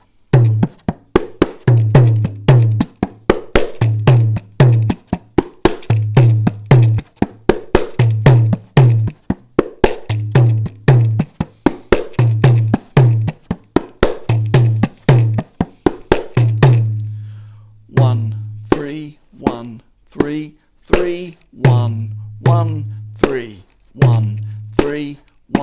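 A kanjira, a small South Indian frame drum with jingles, plays a steady traditional groove of rapid slaps and deep resonant bass strokes, close and alone, ending in a looser run of strokes.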